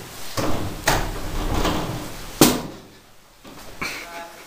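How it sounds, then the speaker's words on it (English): A door shuts in an indoor room with a few knocking thuds, the loudest near the middle, while people talk in English and Spanish around it. "Close the door, please."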